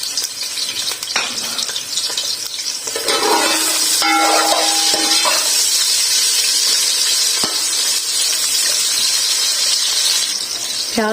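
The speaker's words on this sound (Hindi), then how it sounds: "साबुत मसाले डाल देंगे इसमें, हल्का सा फ्राई करेंगे इसे। इसके साथ ही मैं इसमें प्याज भी डाल दूंगी।" Whole spices and onion frying in hot oil for chana pulao, a steady close sizzle with occasional clinks and scrapes of stirring.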